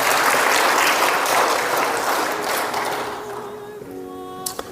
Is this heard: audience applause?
yes